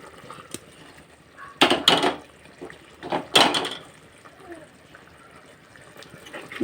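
Small whole sardines drop into a boiling chilli curry in a pan, giving two bursts of splashing and sizzling with quieter bubbling in between. A single short tap comes first, and faint scraping and bubbling linger afterwards.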